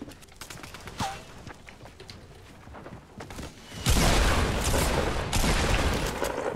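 Gunfire in the video game Fortnite: a few scattered shots at first, then dense, loud bursts of rapid shooting in the second half, with little else around them.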